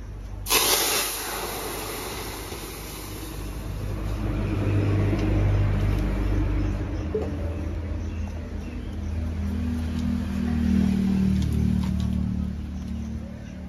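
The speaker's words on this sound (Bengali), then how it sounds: "সর্ষেটা ভালো করে ফুটে গেলে তারপরে টক ডালটা ফোড়ন দেবেন।" Mustard seeds sputtering in hot oil to temper a sour dal, a sudden loud sizzle that settles into a continuous close hiss and crackle for over ten seconds, with a low hum beneath.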